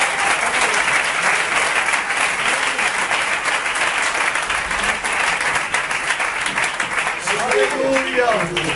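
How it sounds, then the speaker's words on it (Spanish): Dense applause from a church gathering fills the room throughout, with voices faintly mixed in and a few tonal calls or cheers rising toward the end. "¿Puedes dar un aplauso al Señor"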